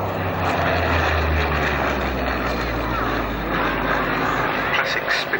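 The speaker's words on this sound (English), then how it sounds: "as the aircraft brake left and right." A Supermarine Spitfire flies at a 1991 airshow in Leicester, its engine a steady, droning roar. A commentator talks over it throughout.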